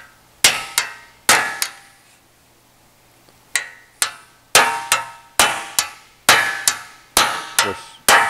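A hammer strikes sheet metal to stretch the edge of a Porsche 550 dash panel, loud ringing clangs close by, first a few spaced blows, then a pause, then a steady run of evenly timed hits.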